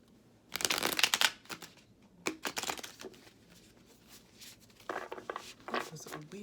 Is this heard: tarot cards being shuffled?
yes